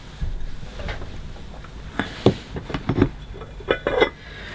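Mugs and glasses for a first caravan trip are set down one after another, giving a run of close ceramic and glass clinks and knocks, loudest in a cluster near the end.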